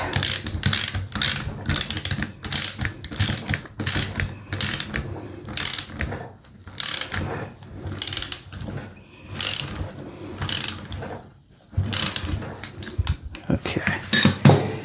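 Ratchet wrench with a 15mm socket tightening a nut on a John Deere 3038e rockshaft valve, rapid bursts of loud close clicking repeated in quick strokes with short pauses between them.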